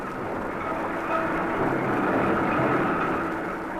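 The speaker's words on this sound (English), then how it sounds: "Blue trains like this one, which we see crossing this new type of level crossing" A blue Ferrovie dello Stato train of the 1960s rolls over a new-type level crossing, giving a steady, loud, broad rumble and hiss of wheels on rails that swells slightly and holds throughout.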